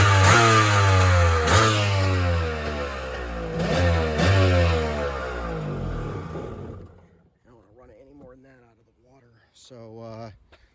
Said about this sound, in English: We'll fire it up one more time here. It fires right up, idle.